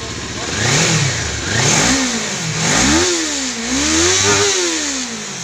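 A Kawasaki 400cc motorcycle engine runs close up, revving repeatedly in rising and falling surges over a rough idle, with someone speaking briefly during the test.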